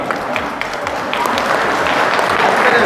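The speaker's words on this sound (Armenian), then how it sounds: "Բարեկամներ, մի հատ էլ ծափերով ցույց տվեք ձեր օրհնությունը, սերն ու հարգանքը, ծափերով մեր զույգի համար" Wedding guests clap for the couple, a steady crowd applause that swells slightly and stays even, mixed with faint voices in the room.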